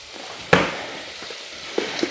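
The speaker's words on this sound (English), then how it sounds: "Can you hear it sizzling?" Bacon crackles and sizzles in a hot pan, a steady hiss broken by a loud clatter of stirring and a few sharp pops.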